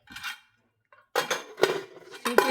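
Pressure cooker lid set over eggs in water, a few short metallic clanks and scraping knocks, close and fairly faint, with a quiet pause between the first clink and a cluster of clatters.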